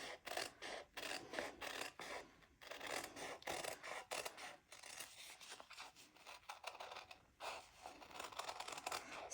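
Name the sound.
scissors cutting out a shape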